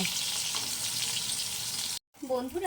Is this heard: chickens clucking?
no